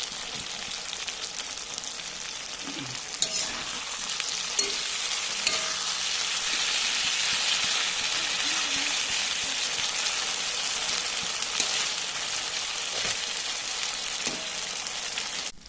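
Rohu fish curry masala with potato and eggplant sizzles steadily as it is sautéed with sugar in a pan, a continuous frying hiss with a few soft scraping clicks of stirring throughout.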